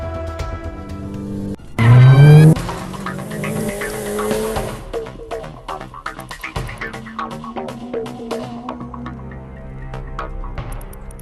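An escape by car in the horror video game Granny's Christmas-themed ending. A sharp burst of tire screech and engine roar gives way to steady engine drone and rattling motion as the car drives off, with no talk.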